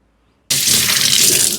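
Water suddenly gushes from a tap after a brief near-silence, a loud, steady splashing rush that continues to the end.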